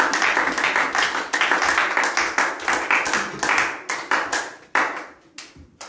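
A church congregation claps and applauds together in a sustained, dense burst of hand claps that carries on loudly for several seconds before tapering off near the end.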